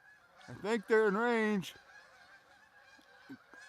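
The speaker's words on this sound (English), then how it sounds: "here comes some Canadian geese flying south" Canada geese flying south overhead, giving a quick burst of several loud nasal honks close together, then trailing off into a few fainter calls against a quiet outdoor background.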